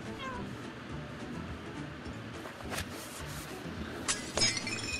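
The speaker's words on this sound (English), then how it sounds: "Why are you breaking all this stuff, you bad kitten?" A kitten meows several times while things crash and shatter, with sharp glassy breaking bursts near the end over a low indoor background.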